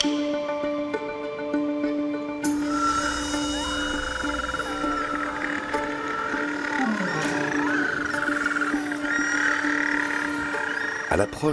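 Little penguins at a Tasmanian colony give harsh, braying calls that rise and fall over a steady nighttime background, several birds overlapping, while a narrator speaks over them.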